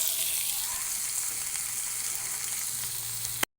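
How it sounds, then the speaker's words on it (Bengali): Chopped onion sizzling and frying in a small amount of oil, a steady dense crackle that holds evenly throughout and cuts off abruptly at the end. "পেঁয়াজ কুচি দিয়ে দিলাম, পেঁয়াজ কুচি আমি অল্প তেলেই করবো।"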